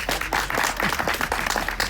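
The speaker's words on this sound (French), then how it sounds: "Normalement, on applaudit à ce moment-là." Applause from a crowd at a public inauguration after the unveiling of a plaque, steady dense clapping filling the whole moment before it cuts off abruptly.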